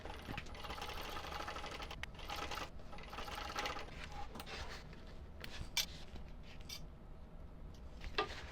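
A sewing machine stitches pieces of a shoulder bag together, whirring steadily with fine mechanical ticking and occasional clicks and fabric shuffling, close and fairly quiet with no talk.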